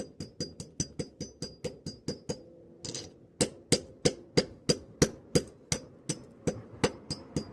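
A hammer strikes repeatedly in a steady rhythm, crushing ore, each blow a sharp metallic clink on hard rock, with a brief pause partway through.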